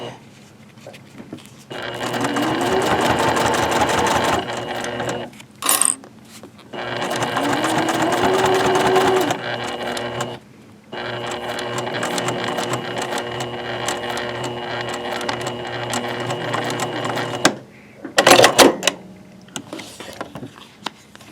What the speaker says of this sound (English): that's about the slowest stitching ever